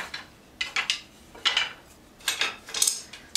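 Metal spoons clink and rattle against each other as a kitchen drawer is sorted, several bright clusters of jangling, close and fairly loud, with quiet gaps between.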